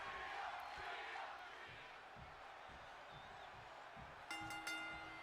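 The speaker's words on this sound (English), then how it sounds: "The crowd chanting for the women's world champion here already," A wrestling-game crowd in WWE 2K25 chants Rhea's name in a rhythmic, pulsing roar at mid distance, fading a little before a bright metallic ringing cuts in near the end.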